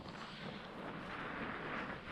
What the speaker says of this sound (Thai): บอกทุกคนนะเนี่ยลมแรงมากเลยนะ